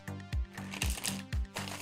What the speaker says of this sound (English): Let's take maybe one more shuffle here.